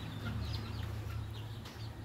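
Backyard hens, several of them broody, make low, steady clucking and murmuring close by, continuous through the moment with no voices.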